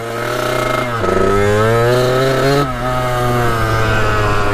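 Kawasaki KX 80 dirt bike, warmed up, with a poorly working clutch, engine running close by with a loud, steady two-stroke drone that dips and climbs in pitch as it is revved.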